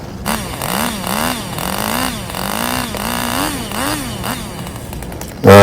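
A Stihl 881 chainsaw cuts into a big log with a loud, steady, close-up engine drone whose pitch rises and falls in a regular rhythm under load, then surges sharply louder at the very end.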